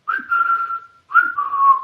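Two long sustained whistled notes in a song, the first holding steady, a short pause, then a second gliding slightly downward; clear and close with no other sound.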